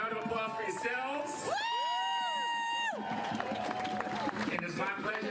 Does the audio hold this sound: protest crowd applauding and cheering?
yes